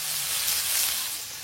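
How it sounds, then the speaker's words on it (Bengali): Sliced potatoes fry in hot oil in a wok, giving a steady, dense sizzling hiss that holds at an even loudness throughout, close up and with no voices. "কড়াইতে আর একটু তেল দিয়ে দেবো। এবার আলুটা ভেজে নেব।"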